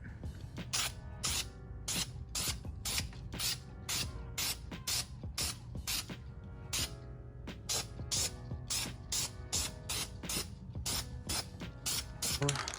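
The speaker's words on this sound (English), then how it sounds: "Right now, just gonna be spraying on the first coat of black." Short hissing blasts from a spray can applying a first coat of black paint to a Harley-Davidson engine come in quick repeated bursts with brief pauses, close by, with a rattling ratchet-like click between sprays.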